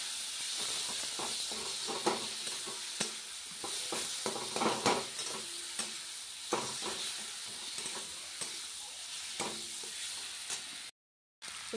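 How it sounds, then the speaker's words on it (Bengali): Tomato and peas with spices, along with taro and potato, are sautéed for a fish curry in a steadily sizzling pan, with frequent scraping stirs over the hiss and a brief dropout near the end. "টমেটো আর মটরশুঁটি দেবো, দিয়ে একটু কষিয়ে নেবো।"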